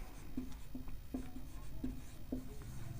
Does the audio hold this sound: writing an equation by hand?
yes